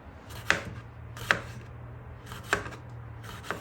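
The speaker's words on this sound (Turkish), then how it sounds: "jülyen doğruyorum" A knife cuts seeded vegetables into julienne strips on a cutting board in a home kitchen, four distinct sharp chops spaced about a second apart against a quiet low hum.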